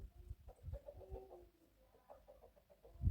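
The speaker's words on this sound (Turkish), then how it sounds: "Beş tane tavuk. Tavukların peşinden gezeceğim." Several chickens cluck softly and intermittently nearby, with low murmuring calls against a quiet background and a soft thump at the end.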